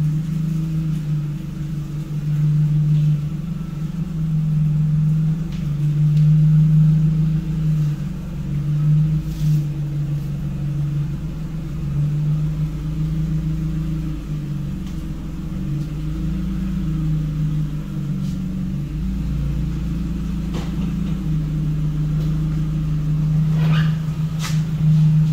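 A supercharged Ford Focus engine running, heard as a steady low drone with a constant hum throughout.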